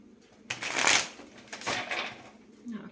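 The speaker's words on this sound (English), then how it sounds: "Now, a couple more shuffles" Tarot cards are shuffled in two quick riffling bursts, close and crisp, with a faint rustle as the deck settles.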